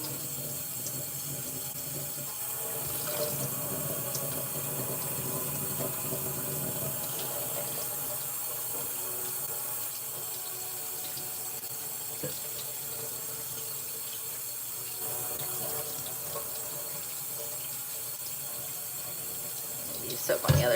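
Water runs steadily from a tap into a sink while a paint muller is washed with soap, a constant close rushing stream with faint clinks and handling underneath.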